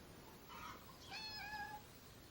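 A pet cat meows twice in quick succession, soft high-pitched calls with a short pause between them, faint and alone indoors.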